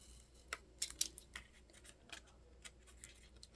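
Scissors snip through excess cardstock on a pieced book cover, a few short crisp cuts in quick succession, close and fairly quiet with no talk.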